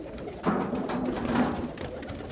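Pigeons coo softly nearby, a few low rolling calls rising and fading over a quiet background.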